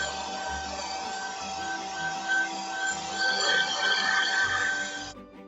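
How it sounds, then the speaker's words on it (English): A handheld blow dryer drying an acrylic-style painting of a winter woods scene, a steady loud whirring hum that runs continuously and then cuts off abruptly near the end. "make sure your blow dryer nozzle is at least a foot away from your painting, and then you can give it a little blow dry"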